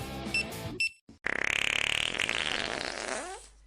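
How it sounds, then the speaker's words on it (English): A cartoonish fart sound effect from a food-scanning kids' app plays: a few short electronic blips, a pause, then a long buzzy, fluttering fart that rises and wobbles before fading. "Kids will discover the unique type of fart a food produces, along with its stink strength"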